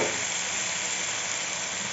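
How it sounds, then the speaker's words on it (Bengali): Cucumber pieces are tipped into spice paste of ginger and green chili frying in a pan, giving a loud, even hiss and sizzle that holds steady and close for the whole moment. "এখন সবজিটা ঢেলে দিব"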